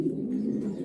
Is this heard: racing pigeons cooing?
yes